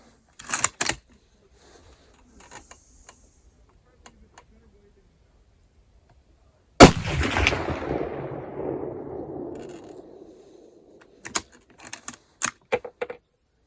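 A single loud shot from a Mosin Nagant 91/59 carbine firing Czechoslovakian training ammunition, a sharp crack with a long echoing boom, framed by brief clicks and handling noises before and after.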